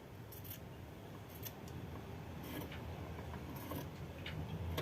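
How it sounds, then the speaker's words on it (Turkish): Scissors cut away excess fabric while a white shirt is being sewn, giving a few faint, spaced snips and crisp blade clicks over a low background rumble, close by and without speech. "Şuradan kumaşımızın fazla yerinden keselim."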